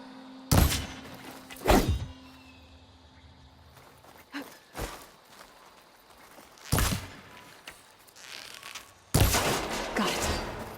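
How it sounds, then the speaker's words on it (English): Gunshots fired at a ladder's lock in Horizon Forbidden West: a few sharp, loud impacts spaced apart, with softer thuds and footstep-like knocks between them over quiet game ambience. "Need to shoot off the lock."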